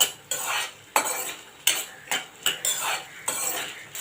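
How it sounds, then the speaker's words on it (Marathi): Field beans (pavta) are sautéed briefly in oil in a wok, with rhythmic spatula strokes clattering against the pan every half second or so over a light sizzle, close by and without speech. "ते कढईमध्ये घालून हलके परतून घ्यायचे"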